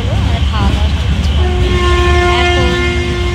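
A train pulls into a station on the Kharagpur to Puri line with a heavy low rumble, then its horn blasts loud and close in one long sustained tone over the rolling wagons.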